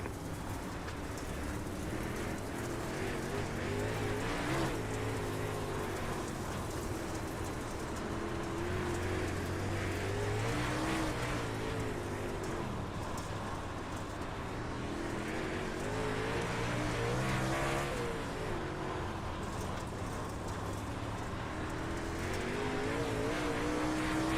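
NARC super late model race cars racing at Limaland, a continuous roar of several engines revving and sweeping past at a distance, rising and falling as the pack circles, with no talk.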